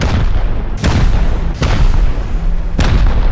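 Rockets slam into a base during a Rust raid, three loud, close explosions spaced about a second apart, each a sharp crack followed by a heavy rumbling tail.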